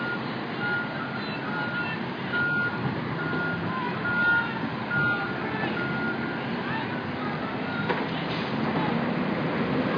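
A reversing trash truck gives a few sharp, evenly spaced warning beeps at moderate distance over steady street rumble and traffic noise, with indistinct voices in the background.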